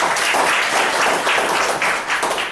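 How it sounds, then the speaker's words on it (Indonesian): Seated participants at a sales clinic session clap for themselves, a steady, moderately loud rush of overlapping hand claps lasting a couple of seconds without speech. "Tepuk tangan untuk diri Anda sendiri."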